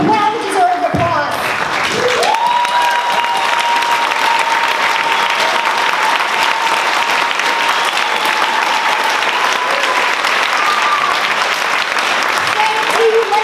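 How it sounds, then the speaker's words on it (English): A school auditorium audience gives sustained, loud applause for graduating music students at a spring concert, dense steady clapping filling the hall throughout with a faint tone held underneath. "May all graduating music students stand up to receive their well-deserved applause."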